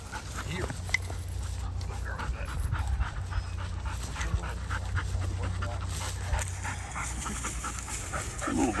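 Black Labrador retriever at a field trial panting rapidly, with faint whines and whimpers mixed in, close and continuous under background noise and brief murmured talk.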